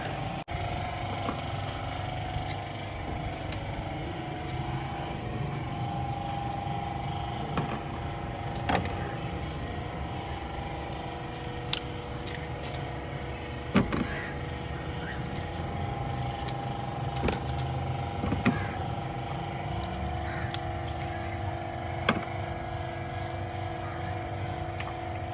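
Toyota GLI car engine with a sound problem, running steadily and continuously at close range with a constant hum and occasional small clicks and knocks, and a voice faintly present in the background.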